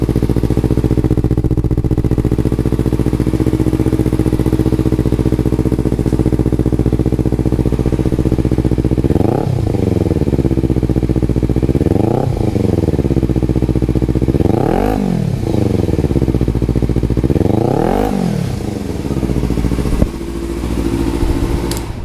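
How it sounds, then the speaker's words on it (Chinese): Kawasaki Z300 motorcycle fitted with a Musarri aftermarket exhaust, idling with a deep steady burble before four sharp throttle blips that rise and fall at even intervals, close and loud, with no talking. "这个我买的这个排气管的声音啊"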